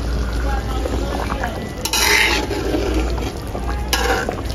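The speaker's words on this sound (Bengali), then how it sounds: "সবকিছু দিয়ে একটু নাড়িয়ে দিব" Mustard hilsa curry with ghee stirred in a pan, giving bright scraping bursts of spoon against metal over a steady background hiss.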